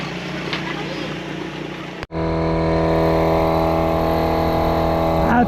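Motorboats passing off Ibiza: an engine drones loudly and steadily after a brief dip, with a rougher motor sound and background noise before it.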